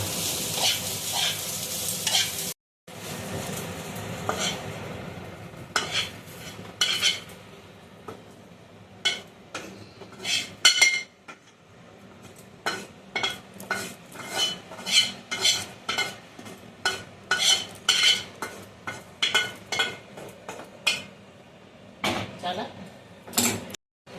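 Fried rice being stirred and mixed in a pot at home, egg bhujia worked through it: repeated scraping and clanking of a utensil against metal in an uneven rhythm, with light sizzling underneath and a short pause near the start.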